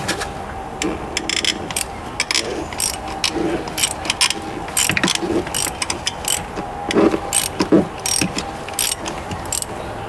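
Ratchet clicking in repeated bursts while spark plugs are loosened from a 2013 Lincoln Navigator engine, close and crisp, with short pauses between strokes and some shop clatter.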